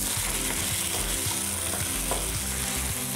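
Tofu stir-frying in a pan for pad thai gives a dense, continuous sizzle with soft low scraping and clatter from stirring, close and steady throughout, no speech.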